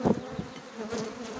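Honeybees at an open hive during a beekeeper's colony inspection, a close, steady buzzing drone with brief louder passes as individual bees fly near.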